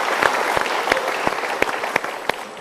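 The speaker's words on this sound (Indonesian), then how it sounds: "Kita berikan tepuk tangan." An audience claps together at a motivational talk, a dense steady patter of many hands with a few sharper individual claps standing out, moderately loud with no speech.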